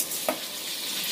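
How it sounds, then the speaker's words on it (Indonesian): Chicken frying in about three tablespoons of hot oil over medium-low heat, a steady soft sizzle with a brief clatter of stirring near the start. "Kita goreng dulu ayamnya."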